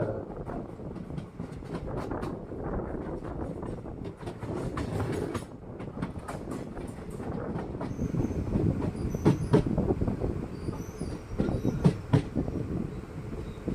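Onboard a passenger train running from Kottayam toward Kollam through Alappuzha district, a continuous rumble with rhythmic wheel clatter and occasional squeals, moderately quiet and steady.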